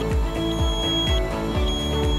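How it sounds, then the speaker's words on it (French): An oxygen concentrator sounds its power failure alarm, a steady electronic tone that repeats in quick, regular pulses, loud and close throughout. "L'alarme sera déclenchée si une défaillance d'alimentation ou de pression de l'oxygène survient."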